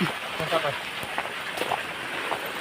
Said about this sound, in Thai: ฝนตกเลยนะครับ